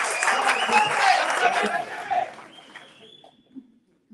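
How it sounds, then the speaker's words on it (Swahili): A crowd's applause at a political rally in Narok County, Kenya fills the first half, loud and dense, then thins and fades out, leaving a few scattered claps and near silence. "Vijana Otipi makofi."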